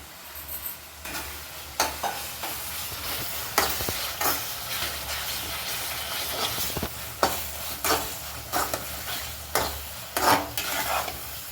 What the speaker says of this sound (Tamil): இது ஒரு ரெண்டு நிமிஷம் நல்லா எண்ணெயிலே வதக்கிக்கலாம்